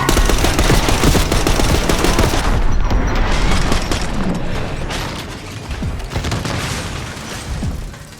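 Sustained gunfire in a Call of Duty Black Ops 6 street battle, loud dense bursts of automatic fire and booms rattling continuously, easing slightly toward the end.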